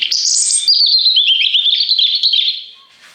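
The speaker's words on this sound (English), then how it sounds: "That's a chaffinch. And the other one's a robin." Chaffinch and robin song plays from a push-button sound box at a theme park, a loud, continuous run of bright chirps and trills that fades at the end.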